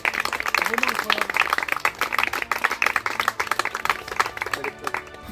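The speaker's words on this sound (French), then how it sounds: "Il faut vous applaudir fort parce que c'est vraiment incroyable." Applause and clapping for contestants on a French survival game show, a dense, steady run of claps throughout.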